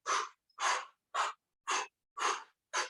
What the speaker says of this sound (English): Breathing out, breathing out. Exhale, exhale.